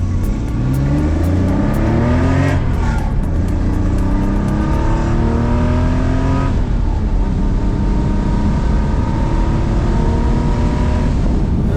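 Porsche 911 with a full straight-through exhaust pulling away hard, engine note rising through two gears with a brief drop at the shift, loud and close throughout, alone without talk.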